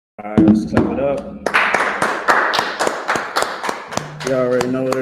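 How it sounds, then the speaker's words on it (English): Audience clapping at a Wednesday biblical law class, a fast series of sharp, loud hand claps close by, with a voice speaking over the start and again near the end. "let's clap it up."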